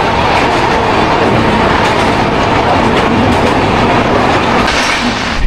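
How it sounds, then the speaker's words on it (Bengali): The Bikaner Howrah Express runs at high speed, heard from inside as a loud continuous rumble with rail clatter and a steady roar throughout. "129-30-এ ছুটছে আমাদের ট্রেন"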